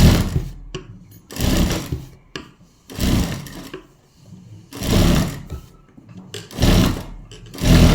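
A sewing machine runs top-stitching along a garment neckline in about six separate bursts of steady, loud whirring, with short quiet pauses between runs as the fabric is shifted by hand.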